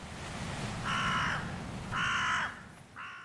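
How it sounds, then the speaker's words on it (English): Three harsh crow caws ring out one after another at even intervals, clear and fairly close over a quiet hiss of outdoor ambience. "maybe I exchange the seagulls and throw in the sound of crows"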